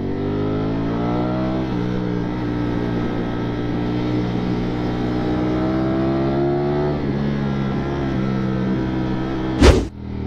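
A Ducati Streetfighter V4S motorcycle engine runs close and loud, its pitch climbing and falling through revs in a steady mechanical drone, with a sharp sudden burst near the end.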